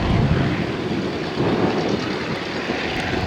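A vintage Bristol propeller aircraft flies past at the Shuttleworth airshow, a steady broad engine and propeller roar with wind buffeting on the microphone, continuous and fairly loud throughout.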